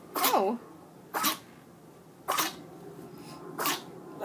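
A puppy lets out four sharp, close sneezes spaced about a second apart, and a person utters a brief exclamation between them.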